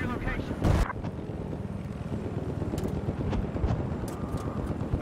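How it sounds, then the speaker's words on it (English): A helicopter in a video game chops steadily in the background amid battlefield noise, with a loud thump early on and a voice talking over the scene. "the chopper's back up again."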